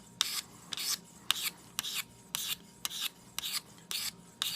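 A knife edge is stroked against a KME convexing rod abrasive stone in about nine quick, evenly spaced raspy strokes, each a close, gritty scrape with short pauses between.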